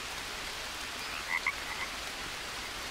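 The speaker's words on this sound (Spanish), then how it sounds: "Las ranas estas que son las venenosas, ¿no?" Poison frogs in the jungle of the survival game Green Hell give a few brief, faint croaks midway through, heard over a steady rain-like hiss.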